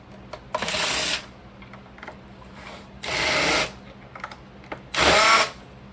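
A small electric screwdriver backs screws out of the rear panel of an LED light, giving three short whirring bursts of about half a second each, separated by quieter handling clicks and taps.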